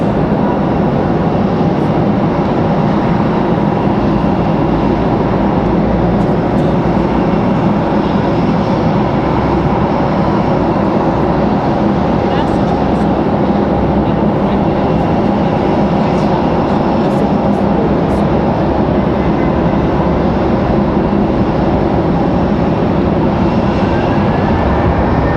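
Steady, loud jet engine roar from an American Airlines Boeing 737 departing Raleigh-Durham International Airport, holding as one constant rumble without a break.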